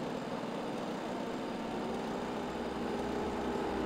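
A car engine in the Chuck E. Cheese Simulator video game gives a steady, fairly faint broadband rumble that holds evenly throughout, with no talk over it.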